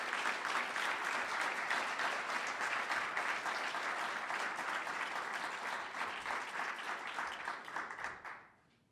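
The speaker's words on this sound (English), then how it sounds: "So let's have a round of applause for all these workers." Sustained applause from an audience, dense and steady for several seconds before fading out at the end.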